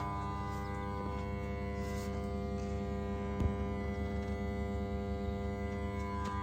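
An evap smoke machine runs steadily on a 2002 Chevy S10 during leak testing, giving a constant mechanical hum with a buzzing tonal drone and one brief knock midway.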